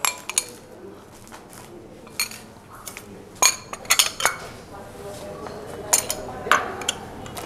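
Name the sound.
mashing 150 g of boiled or steamed sweet potato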